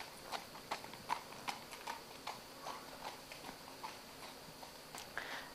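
A horse walks on firm ground during a lameness assessment, its hooves landing in a steady, even clip-clop of regular footfalls, faint and at some distance, with no voices.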